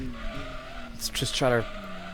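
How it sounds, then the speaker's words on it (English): Racing car in Gran Turismo 2 spinning its wheels, a brief rising tire squeal over a steady engine drone, heard beneath a speaking voice. "it just has so much wheel spin"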